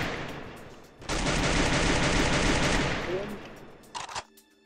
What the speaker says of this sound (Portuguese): Tô tomando tiro de onde, porra?